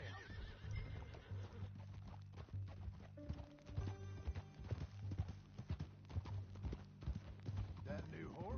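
Horse hooves clip-clop steadily while a horse whinnies, set against a low droning background with some voices, from the video game Red Dead Redemption 2.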